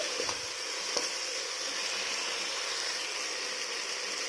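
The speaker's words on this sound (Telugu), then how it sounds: "టొమాటోస్ బాగా మెత్తగా అయ్యేంత వరకు బాగా వేయించుకోండి" Chopped tomatoes frying in a pan for Chennur dum biryani give a steady, close hiss of sizzling oil, with a couple of faint stirring clicks near the start.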